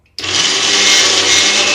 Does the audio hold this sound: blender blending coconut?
yes